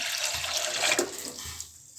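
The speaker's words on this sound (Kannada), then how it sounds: "ಒಂದು ಚಮ್ ನೀರು ಹಾಕ್ಕೊತಾ ಇದ್ದೀನಿ" Water is poured from a cup into a cooking pot on a stove, a brief close splashing pour lasting about two seconds that tapers off at the end.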